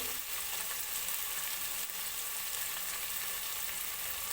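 Tomatoes fry in hot oil for a veg pulao, giving a steady, even sizzle that holds close and continuous throughout with no voices over it.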